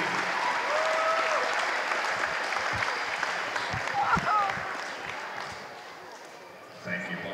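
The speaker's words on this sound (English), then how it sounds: "Now let's hear a round of applause for the all-conference team." A gymnasium crowd applauds the all-conference team at a state basketball play-in game, steady clapping with some cheering and a few thumps, with a voice heard over it before it thins out.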